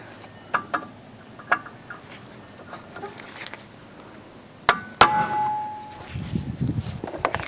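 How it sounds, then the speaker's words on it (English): A hammer knocks on a rear brake rotor of a 2011-2017 Honda Odyssey during brake work, giving a few sparse, sharp metallic taps and one louder ringing clang, with quiet workshop noise between the strikes. "Usually all you need is an impact driver and a hammer like this."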